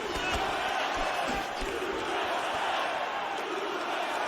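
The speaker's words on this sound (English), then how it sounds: "the crowd's cheering for here" Crowd at an MMA fight roars and cheers steadily throughout, a dense wash of voices in a large venue with occasional thuds and shouts rising from the din.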